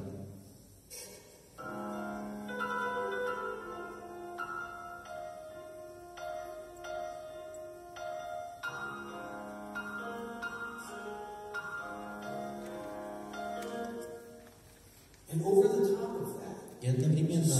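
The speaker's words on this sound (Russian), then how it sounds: "В середине музыка сильно замедляется, а фортепиано звучит вот так." Slow, gentle middle section of a ragtime piece played on solo piano, with soft sustained chords and a delicate melody, fairly quiet and unaccompanied until a brighter, louder passage enters near the end.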